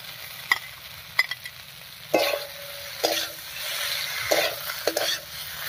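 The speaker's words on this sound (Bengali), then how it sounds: "ভেন্ডিটা দিয়ে সব কিছুর সঙ্গে মিশিয়ে নিয়েছি" A spoon stirs fried okra into spiced fried potatoes in a pan: soft sizzling under several sharp scraping strokes that come in uneven bursts, close and quiet, with no talking.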